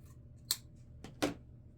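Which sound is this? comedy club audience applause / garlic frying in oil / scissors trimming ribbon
scissors trimming ribbon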